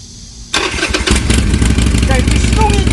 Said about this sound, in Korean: 컴pen세이터를 확인해 보기 위해서는요, 일단 시동을 걸어야 됩니다.